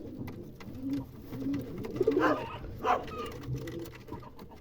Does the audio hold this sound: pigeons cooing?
yes